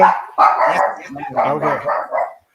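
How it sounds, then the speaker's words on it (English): Dogs bark repeatedly nearby, loud and close, overlapping with a person speaking briefly. "Sorry about the dogs."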